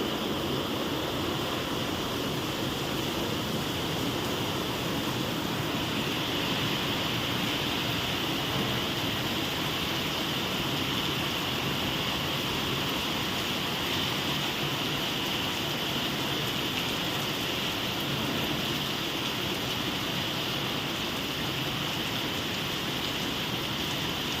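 Heavy monsoon-style rain pours down steadily in Ahmedabad, a dense, unbroken hiss of water drumming on surfaces that stays loud and even throughout, with no voices.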